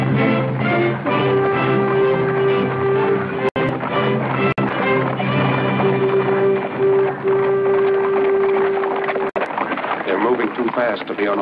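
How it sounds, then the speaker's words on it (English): Horses pull a coach in a 1952 adventure film scene, their hooves clip-clopping in a steady trot under a sustained musical score, with a few sharp breaks in the sound. "Horses."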